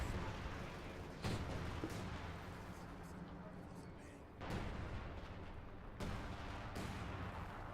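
Artillery guns in Company of Heroes 2 fire in a series of heavy booms, several sharp blasts spaced seconds apart over a rumbling battlefield background.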